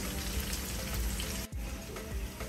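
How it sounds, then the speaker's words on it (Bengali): Chopped onions frying in oil over a medium flame, a dense, steady crackling sizzle close up with soft stirring scrapes and a brief dip in the middle, no talk. "পেঁয়াজটা হালকা বাদামি করে ভেজে নেব, 2 মিনিটের মতো আমি ভেজে নেব।"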